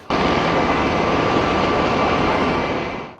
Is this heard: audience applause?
no